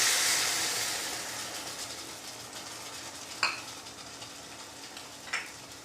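Garlic kuzhambu with freshly added tamarind water sizzles and simmers in a pan, a steady hiss that fades slightly, with two brief clinks of a utensil.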